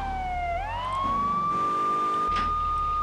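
A police car siren wails in the video game GTA 3, a loud electronic tone that dips sharply, then climbs and holds high and steady, with a brief extra burst near the end.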